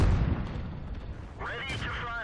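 A Type 3 Chi Nu tank gun firing in World of Tanks, one heavy boom at the start that decays into a rumble, followed by someone speaking over the game sounds.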